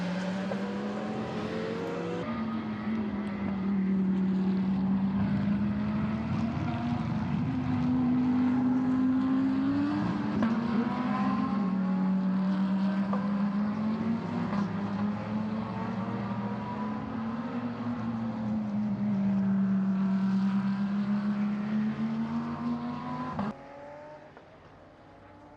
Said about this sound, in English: he has what sounds like a revving Porsche behind him